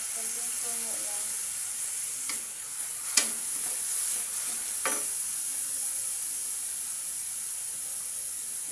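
Fish sarciado frying in a pan as soy sauce is poured in, producing a loud continuous sizzle with bursts of hiss and a few sharp clinks of a utensil against the pan.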